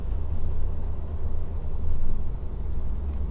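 A Honda Civic RS petrol car climbs uphill in third gear, its engine giving a steady low rumble with gentle swells, heard from inside the cabin with no talk.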